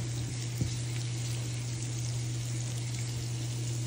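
Large shrimp cook in a pan with a continuous, even sizzle and hiss and a steady low hum beneath it. No one talks.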